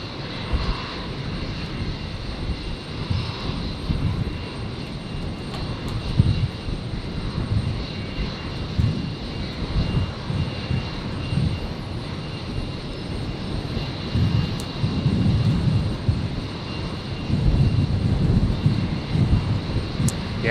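An airliner takes off at Brisbane International Airport on a stormy night, its engines giving a steady, broad roar that swells gradually over about twenty seconds, heard from a distance without voices.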